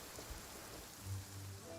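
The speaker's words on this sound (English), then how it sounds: "Quite a downpour." A steady, dense patter of heavy rain in Genshin Impact pours down evenly throughout, a constant wash of drops at moderate volume with no voices.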